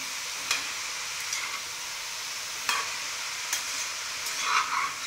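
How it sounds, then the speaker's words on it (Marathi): Grated carrot stir-fried in ghee for gajar halwa, a soft continuous sizzle with occasional spatula scrapes and stirring strokes, close and unaccompanied by talk. "त्यामुळे पहिल्यांदा असं थोडंसं तुपावर गाजर छान परतून घ्यायचं, एक 5 ते 7 मिनिटं"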